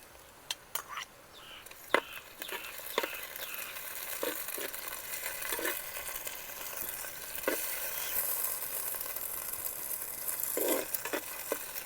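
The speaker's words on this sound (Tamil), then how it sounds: "நல்லா மிக்ஸ் பண்ணணும், ஸ்டேர் பண்ணணும்." Masala stirred and frying in a pan for a village-style Indian mackerel dish, a soft ongoing sizzle punctuated by scattered sharp scrapes and taps of the spoon, fairly quiet and close.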